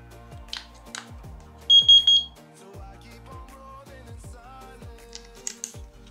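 A Muji kitchen timer gives a quick burst of high, bright electronic beeps, loud and close, amid light clicks and taps as it is handled.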